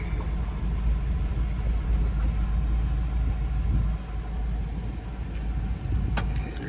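A 1964 Ford F-350 dump truck rolls downhill in second gear, its engine a steady low rumble with road noise and no talking.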